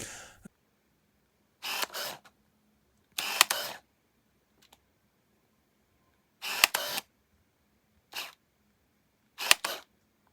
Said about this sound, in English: it's an autofocus lens, and boy, does the motor let you know it's working